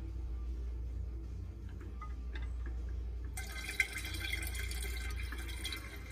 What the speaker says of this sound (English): about 800 milliliters going into the fermenter